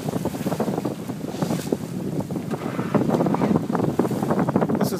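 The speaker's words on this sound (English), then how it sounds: "This is not as much wind as I was hoping for." Wind buffeting a microphone aboard a sailboat under test with a Raymarine wheel autopilot, with water washing past the hull: steady gusty rumble and flutter throughout, close and fairly loud, no talking.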